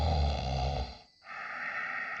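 Snoring from a character in a scary village video game, a loud rasping snore that breaks off briefly, then a quieter breathy stretch, with no talk.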